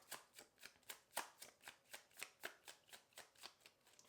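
Tarot cards riffled in a steady rhythm of about a dozen crisp, papery bursts, close and fairly soft, with no voices.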